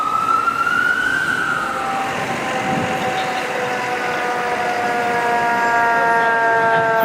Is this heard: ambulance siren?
yes